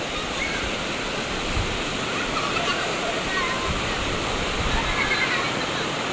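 Shallow stream water flowing steadily, a broad continuous rushing wash that stays even and fairly close throughout, with children bathing in it; faint voices may mix into the constant flow.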